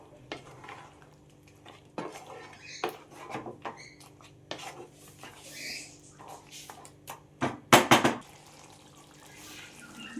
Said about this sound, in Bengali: টমেটোর পেস্টটা দিয়ে আমি আবারও মটনের সাথে ভালো করে 10 মিনিটের মতো কষিয়ে নেব